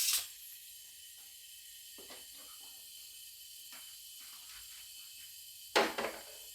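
Compressed air hisses steadily out of a car engine cylinder with low compression during a leak-down test, a faint continuous leak broken by a couple of short louder bursts near the start and end.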